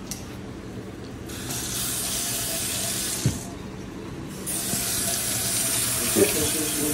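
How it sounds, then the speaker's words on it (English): Hot water runs from a sink tap in a steady hissing stream, briefly cutting out midway before gushing again, louder, with small clinks of water hitting the basin. "Turn the hot water on with the"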